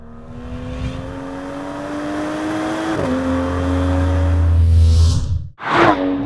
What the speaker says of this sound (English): I'm driving a brand new Aston Martin